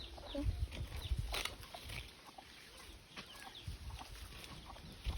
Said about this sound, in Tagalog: Ba't ang daming sisiw ni mami?